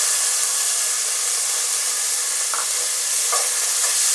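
Diced potatoes and sprouted moth beans fry in a pan and get stirred for masale bhaat, a steady sizzle running throughout with a few soft spatula scrapes near the end, no talking.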